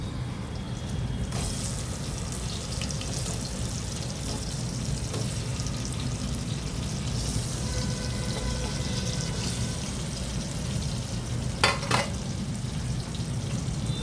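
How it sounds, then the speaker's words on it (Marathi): Stuffed eggplants sauté in hot oil tempered with curry leaves, asafoetida and cumin, giving a continuous loud crackling sizzle with occasional stirring scrapes and a couple of sharper spatters, and no one speaking. "हे तेलावर छान 2 मिनटं अशी परतून घ्यायची आपल्याला"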